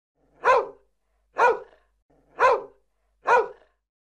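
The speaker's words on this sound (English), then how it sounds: "A dog goes." A dog barks four times at an even, steady pace, each bark clear, close and loud against silence, with no voices.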